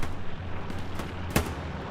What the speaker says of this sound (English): Gray Fox gonna throw a grenade here